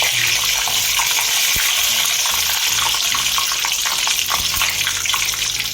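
Peanuts and cumin seeds roast in hot tempering oil over a medium flame, giving a loud, continuous sizzle and crackle up close.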